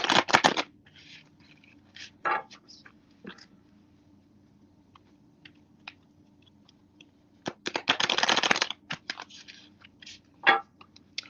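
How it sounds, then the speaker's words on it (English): Tarot cards are shuffled in a few separate bursts, loud and close, with quiet gaps and scattered light taps between them. "While I shuffle these cards, Lamaya"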